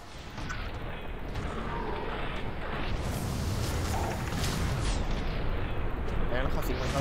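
Heavy explosions and gunfire in the F.E.A.R. 3 video game, a dense, continuous roar of blasts and rumbling booms that holds steady at a loud level for the whole stretch.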